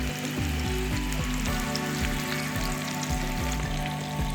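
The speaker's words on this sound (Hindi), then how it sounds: "इतनी ज़बरदस्त हमारी फ़िश फ्राई हो रही है" Fish pakora deep frying in hot oil over a low to medium flame, a loud, steady bubbling sizzle running throughout with soft crackles and no voices.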